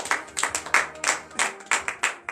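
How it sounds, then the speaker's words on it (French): A congregation at a morning prayer service claps in acclamation, about nine distinct rhythmic claps in a steady beat, moderately close and unaccompanied by talk. "Donnez l'acclamation à l'Éternel."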